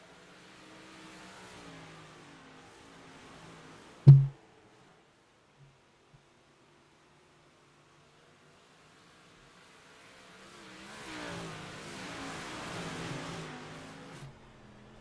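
Modified race cars roar through turns in a racing video game, engine tones swelling and fading as they pass, with one sharp loud thump early on, a quiet gap, then another car revving up and away.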